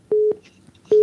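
A telephone busy tone sounds after a call is cut off during a live call-in program, giving two loud, steady beeps separated by a short gap, clear and close with no talk over it.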